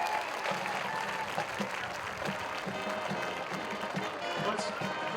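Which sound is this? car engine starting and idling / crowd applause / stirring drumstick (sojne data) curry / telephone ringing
crowd applause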